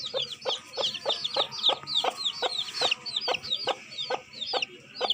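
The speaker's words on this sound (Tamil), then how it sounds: "அங்கே ஒரு கோழி வந்து குஞ்சு பொறிச்சிருக்கு" Repeated short hen clucks in a steady rhythm on a farm, with fainter chirping of her five newly hatched chicks layered above, close and moderately loud with no talking.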